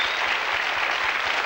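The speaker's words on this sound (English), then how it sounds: "Ladies and gentlemen, give them a round of applause, will you?" A studio audience on the 1981 game show 3-2-1 applauds, giving a steady, even wash of clapping across the whole moment.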